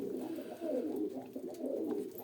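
Soft, low pigeon cooing, a continuous rolling murmur close by with slight rises and falls.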